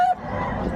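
A fighting rooster offered for sale at a gamefowl market in Bocaue, Bulacan gives one short, harsh squawk or crow, loud and close, lasting under a second.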